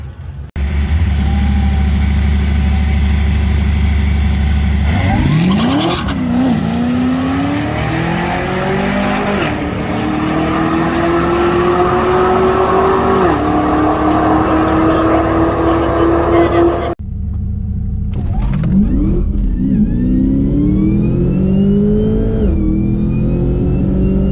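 A drag race car on a test run down the track at sundown, loud engine roaring and revving through rising gear pulls, with tire squeal, a brief cutoff, then another surge of acceleration.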